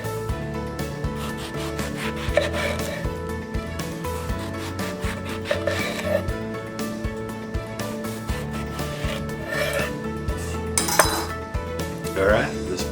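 Knife strokes rasp and scrape through garden eggplant on a cutting board, cutting quarter-inch slices for fried eggplant Parmesan; a close, repeated, uneven rhythm of slicing and board taps, with no talking.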